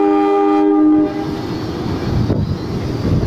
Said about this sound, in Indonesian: Kereta api Fajar Utama Yogyakarta berangkat kembali dari stasiun Jatinegara